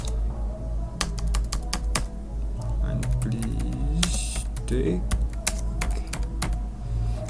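Someone types on a computer keyboard, the rapid, irregular clicking of keys running steadily close by while a person talks over it.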